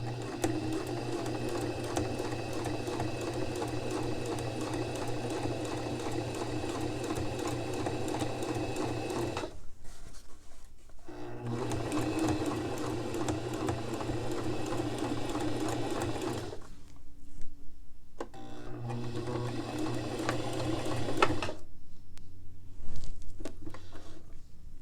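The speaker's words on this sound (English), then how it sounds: "If you need to go slow to make sure you get a straight stitch, then go ahead and go slow." A sewing machine stitches a pocket into a dress with a steady, close mechanical whir. It runs in three long bursts with brief silent pauses between them.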